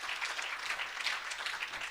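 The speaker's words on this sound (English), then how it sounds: "let us please give a big round of applause to all our guest speakers" Applause from a research day audience for the guest speakers, a steady wash of many clapping hands at moderate volume.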